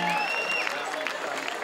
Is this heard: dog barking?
no